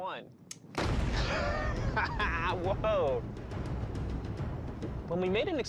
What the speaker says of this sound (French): L'explosion autour de la barrière génère deux superbes lobes opposés.